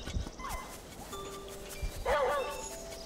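A dog in the Zelda Link's Awakening video game gives a few short yips and barks, with whimpering tones and other game sounds between them. A voice is faintly present.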